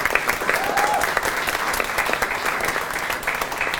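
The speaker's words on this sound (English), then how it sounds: "give these organizers a round of applause for putting this together and being here tonight." Sustained applause from a crowd at an evening candidate forum, steady clapping throughout at moderate loudness, with no talking over it.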